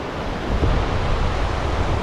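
A fast-flowing river rushes past close by on a backpacking trip, a steady broadband roar of moving water mixed with some wind buffeting, with no talk.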